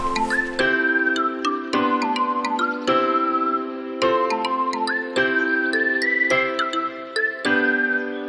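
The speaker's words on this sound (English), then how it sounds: "Alarm!" An alarm rings with a bright, melodic electronic tone pattern, repeating in short phrases of about a second each, steady and clear throughout with no talking.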